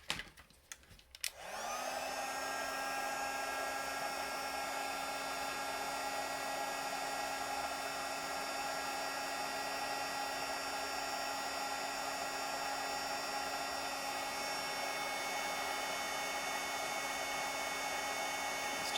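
An embossing heat tool blows steadily onto a handmade card, a close, loud, constant whirring hum with a high whine, starting after a brief click and running unbroken with no talking.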